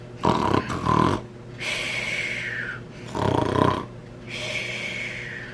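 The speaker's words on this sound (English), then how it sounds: "heard the loud snores coming from Grandma's cottage" Loud, close snoring in a steady rhythm: rasping inhales alternate with whistling exhales, four breaths in all, exaggerated and cartoonish.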